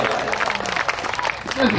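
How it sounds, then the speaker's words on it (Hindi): Clapping rises from the audience at a mushaira poetry recital, a short burst of crowd applause mixed with voices, with a voice speaking over it near the end. "एक बार तालियां बजा दिया"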